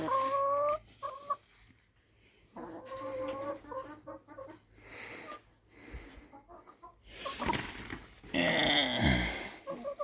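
Chickens in a chicken box on a farm cluck and squawk in bursts close by. The calls are irregular, with quiet gaps between them and a louder flurry near the end.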